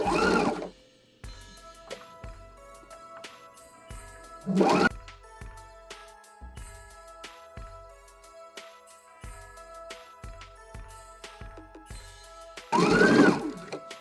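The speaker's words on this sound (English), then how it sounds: "we are just gonna stitch all the way down" A sewing machine stitching a zipper onto a silk pillowcase runs in steady bursts, its needle whirring rhythmically, with a few louder clunks as the fabric is adjusted between runs.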